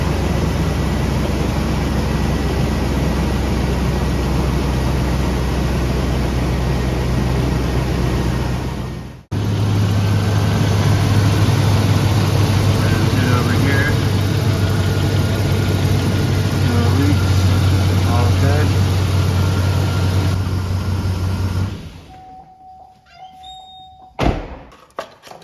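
A GMC 5.3-liter V8 idles steadily with a broken exhaust manifold bolt just repaired, giving a loud, continuous engine drone that cuts out briefly near nine seconds, then resumes and stops, followed by a few faint clicks and thumps.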